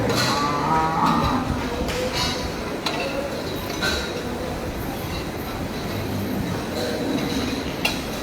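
Cattle low inside a busy farm shed at a large livestock farm, deep moos rising over a constant bustle of rumbling background noise and scattered clatter.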